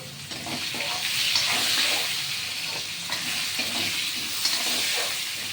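Potatoes frying in a covered pan give a steady, soft sizzle and hiss that runs continuously at moderate level, with no talking.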